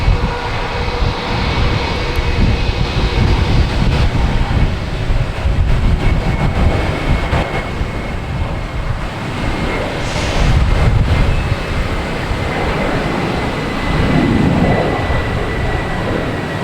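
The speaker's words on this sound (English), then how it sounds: "We have a Delta taking off in E175," Delta Embraer E175 airliner taking off at Boston Logan Airport, a steady loud jet engine roar heard from nearby that swells and fades slightly across the takeoff run, with no talking.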